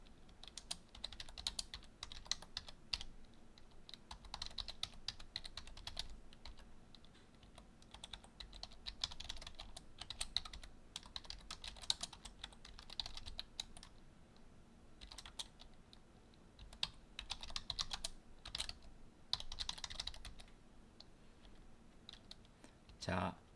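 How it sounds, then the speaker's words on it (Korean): Steady, rapid clicking of keys on a computer keyboard, soft and close, continuing in uneven bursts with brief pauses. "새롭게 타이핑을 해보도록 하겠습니다"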